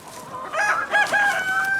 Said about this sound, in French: on est sur une exploitation avicole, en production principale en aviculture, volaille, donc poules pondeuses, des poulets de chair